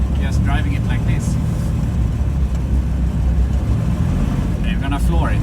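A Dodge Ramcharger fitted with a 5-cylinder diesel engine drones with a steady, loud low rumble while driving, and a voice talks over it at the start and end.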